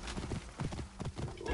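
Horse hooves clip-clop in a steady trotting rhythm with a short whinny, close and loud, from a mount ridden through Assassin's Creed Origins, with a voice talking faintly over it.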